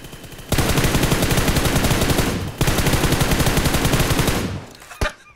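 A DP light machine gun fires in the mobile battle-royale game PUBG Mobile in two long, loud, continuous bursts separated by a brief pause, then fades out before one last sharp shot.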